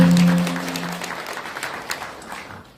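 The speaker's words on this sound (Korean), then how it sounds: "박수 한번 쳐주시죠." Audience at a 2024 legislative report meeting in Gwanak, Seoul, clapping together in a lively burst of applause that tapers off over a few seconds, with a brief hum of amplified sound at the start.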